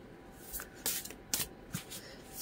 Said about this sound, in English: I'm gonna grab a couple more cards here.